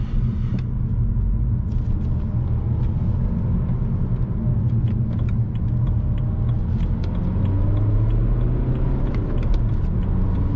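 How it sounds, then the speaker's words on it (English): A BMW 320d E92 coupe, 177 hp diesel with a six-speed manual, drives through city streets on a calm day, giving a steady low cabin rumble with gentle engine hum and a brief rise in revs near the end, no talking. "so beautiful day to drive a nice coupe in the city"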